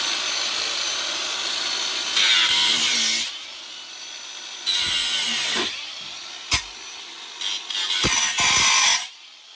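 A cordless cutting tool bites into the pinch weld of a 4th-generation Toyota 4Runner in loud whining bursts of a second or so, separated by quieter gaps and a sharp metallic clink.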